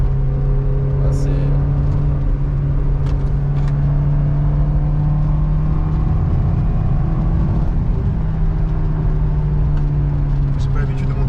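A Honda S2000 engine hums loudly and continuously from inside the cabin, its pitch gradually climbing and shifting as revs rise.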